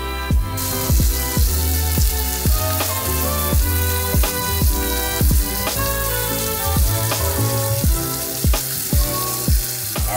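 Jerk pork loin searing in a hot pan, a loud, steady sizzle running throughout beneath a rhythmic backing music track with regular beats.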